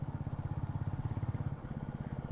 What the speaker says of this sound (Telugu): ఇంజన్ నాకింగ్ సౌండ్ కూడా బాగుంది